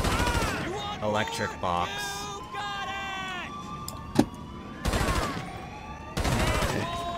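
Gunfire in GTA V, short bursts of shots mixed with in-game engine and vehicle noise, with excited speech breaking in between the volleys.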